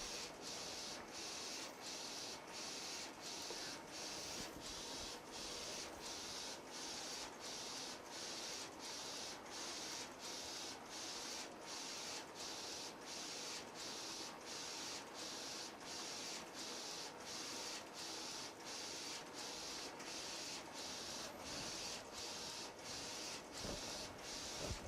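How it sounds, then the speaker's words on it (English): A printer works steadily through a print job, a fairly faint, regular clicking and rasping repeating many times at an even rhythm, with no other sounds. "It's going to go ahead and spool the job to the printer and release it."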